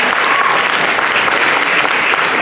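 A gala audience gives a round of applause for an honoured judge, dense, loud and sustained clapping from a large crowd throughout, close and unbroken, with no voices over it.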